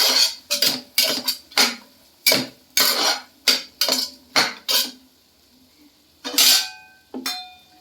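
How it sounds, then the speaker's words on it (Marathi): A spoon scrapes and clinks against a metal pan as garam masala is stirred and sautéed with green peas for vatane bhat, a run of sharp, evenly spaced metallic strokes up close, then a brief pause and two more clinks, with no talking. "त्यात आपण फक्त अर्धा चमचा टाकतोय गरम मसाला. तो पण छान परतून घ्यायचा आहे."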